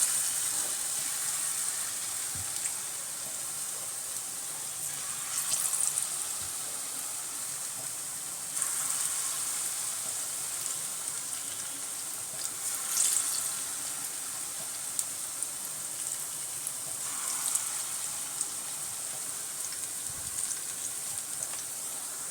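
Taal bora palm fritters frying in hot oil on a gas stove, a steady broad sizzle with soft crackling bursts every few seconds, moderately loud and close, no voices.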